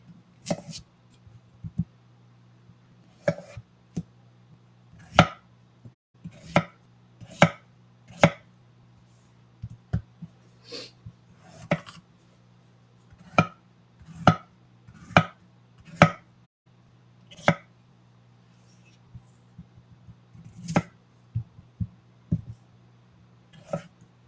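Sharp knife chops through potatoes on a cutting board, a couple dozen separate strikes at an uneven pace over a low steady kitchen hum, with no voices.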